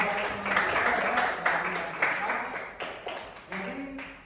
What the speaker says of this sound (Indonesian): Oke, aplaus dulu untuk jawaban.